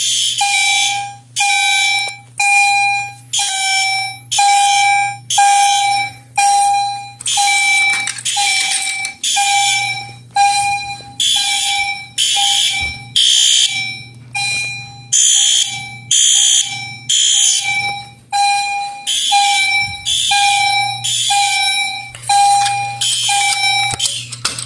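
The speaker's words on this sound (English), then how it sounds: "We have the ESC Siga 278. Now we just pull it down." A fire alarm system set off from an ESC Siga 278 pull station sounds loud and close in a steady rhythm, about one pulsed tone per second, each with a bright buzzy horn burst, repeating throughout.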